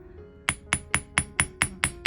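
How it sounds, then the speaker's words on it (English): A ball peen hammer strikes copper wire laid on a steel bench block, eight sharp metallic taps in a steady, even rhythm, close and clear with no talking. "start hammering using the ball peen end of my hammer"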